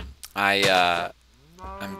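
Two cows in Minecraft moo close by: a long, loud, harmonic bellow with a falling tail, then after a short pause a second, quieter rising moo.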